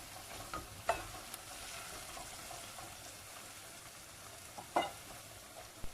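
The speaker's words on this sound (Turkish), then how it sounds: "Salçayı da güzelce kavuralım." A steady sizzle of tomato paste frying in a pan, with occasional scrapes and clinks of a spoon stirring, close and continuous.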